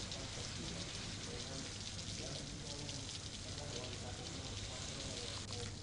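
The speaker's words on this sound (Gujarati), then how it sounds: "સતત બીજા દિવસે વરસાદી ઝાપટા પડ્યા હતા" Steady rain falling, a dense continuous hiss of drops pattering on surfaces, even and unbroken throughout.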